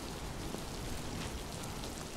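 Steady rain falls in the video game Miasmata, a dense, even hiss of drops that holds at the same level for the whole stretch with no voices over it.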